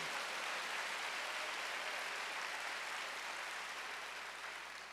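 Many hands from a church congregation at a Wednesday worship service clap in a continuous, even roar that holds steady from a distance and gradually fades toward the end.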